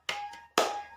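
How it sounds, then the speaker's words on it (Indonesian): Spirit clap in a classroom lesson: two sharp, close hand claps about half a second apart, with a faint steady tone ringing underneath. "Kita tepuk semangat dulu ya."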